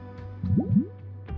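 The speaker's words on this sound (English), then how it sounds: "First, we add this special slime condensate. Stir it thoroughly," Slime condensate is poured in while cooking in Genshin Impact, making a pair of wet, squishy plops and a soft drip over a low background hum, brief and close.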